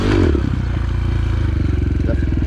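An enduro motorcycle in second gear, with the clutch popped, gives a loud, close engine burst followed by a rapid, pulsing low throb as it pulls away, with a brief clatter at the start.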